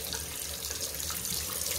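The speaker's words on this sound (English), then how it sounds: "The tap is leaking." Water runs steadily from a leaking tap in a home bathroom, a continuous close hiss of flow with no other sounds.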